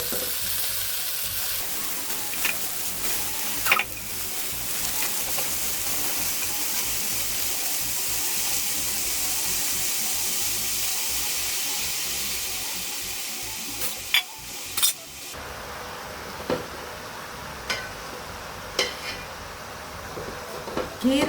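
Spinach greens sautéing in a pan give a loud, steady hiss and sizzle that softens partway through, with occasional sharp clinks of a stirring utensil near the end.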